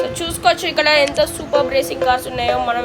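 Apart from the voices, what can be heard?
None of the usual background noises is heard.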